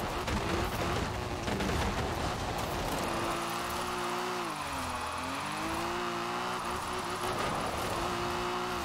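Car drifting in Forza Horizon 4, a loud continuous engine roar with revving pitch swings and tire squeal, steady for the whole stretch with no talk.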